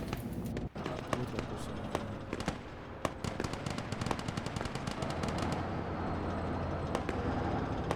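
Rapid bursts of automatic gunfire mixed with single shots crackle continuously in an Arma 3 battle, loud and dense throughout with sharp transient cracks, no talk over them.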